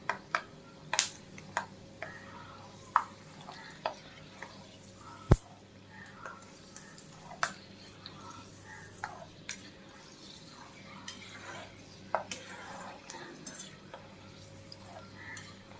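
Peanuts and thin flattened rice fry in a pan for chivda, with a soft steady sizzle under a spatula that scrapes and clinks against the pan at irregular intervals.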